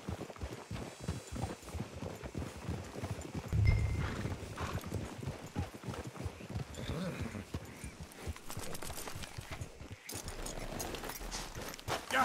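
Horse hooves clip-clop steadily in Red Dead Redemption 2, close and continuous across the scene, with occasional whinnies and voices speaking briefly over the background sounds.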